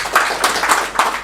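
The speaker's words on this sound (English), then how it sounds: "And you have to clap for that if you think about it." An audience claps in a short burst of several quick, uneven hand claps, close and fairly loud, with no talk over it.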